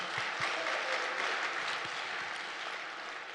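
A church congregation at a fasting prayer house bursts into clapping, a dense, lively applause that tapers slightly toward the end.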